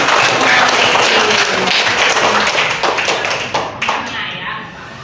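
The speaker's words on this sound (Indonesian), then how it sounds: "tepuk tangan" Schoolchildren in a classroom clap their hands together in a dense, lively burst that goes on for several seconds and then tapers off toward the end, with voices mixed in.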